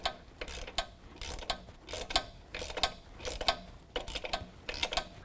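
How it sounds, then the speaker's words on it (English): A ratchet wrench loosens the nut on a strut shaft while installing a 2-inch leveling kit on a 2019 Dodge Ram 1500, giving repeated bursts of rapid clicking separated by short pauses, close and clear with no talk. "I'm going to go ahead and finish taking the nut loose from the shaft."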